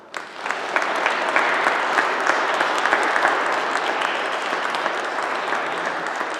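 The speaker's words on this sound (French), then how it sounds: "Je vous demande de les applaudir." Congregation applauding in a parish church during the Easter Vigil, a dense, steady wash of many hands clapping that rises quickly and holds at full strength throughout.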